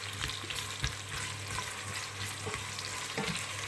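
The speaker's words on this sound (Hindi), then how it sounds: "गरम ऑयल में प्याज ऐड करें तो ज़रा जल्दी फ्राई हो जाते हैं" Onions frying in hot oil for a chicken palak curry, a continuous crackling sizzle with intermittent scraping stirs of a spoon in the pan, no talking.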